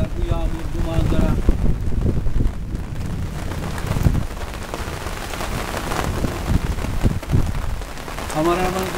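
Rain falling over green village countryside with trees, a continuous patter with wind buffeting the microphone, while people talk over it at the start and end.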